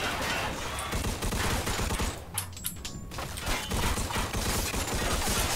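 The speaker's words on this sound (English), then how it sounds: "we're taking shots from both angles" Dense, continuous gunfire from a Mafia II shootout, loud and sustained with overlapping bursts, briefly thinning for a moment before the barrage resumes.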